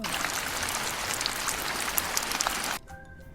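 Steady rain patters densely for a few seconds, then cuts off abruptly into near quiet.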